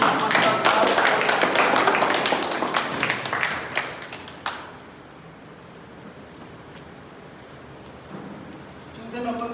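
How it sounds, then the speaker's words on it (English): Applause at a Toastmasters club meeting, a dense round of clapping that fills the first half and then cuts off abruptly, leaving a quiet room with a faint noise near the end. "A big round of applause for Toastmaster Anurag."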